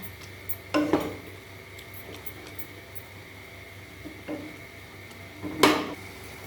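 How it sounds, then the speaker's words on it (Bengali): A spoon scraping and clinking against a cooking pan while salt is stirred into keema ghugni with minced meat and peas, a few sharp metallic knocks over a quiet, steady background. "নুনটা ভালো করে মিশিয়ে নেব।"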